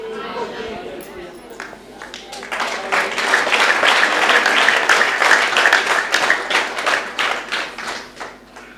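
A church congregation claps during a sermon, the applause swelling into a sustained, loosely rhythmic burst of many hands before tapering off, with a voice speaking over it.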